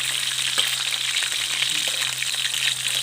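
Pork cracklings frying in hot oil for a northern Thai chili dip, giving a steady dense sizzle with small crackles and pops throughout, close and continuous with no voices.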